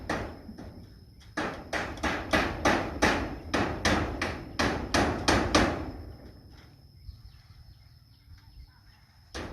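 Sharp hammer blows drive nails during a house leak repair, a steady run of about fifteen evenly spaced strikes, close and loud, stopping abruptly near the end and leaving quiet room tone.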